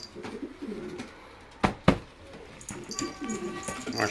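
Paired pigeons kept by a fancier coo in soft, low repeated phrases, with two sharp knocks near the middle and faint higher bird chirps toward the end.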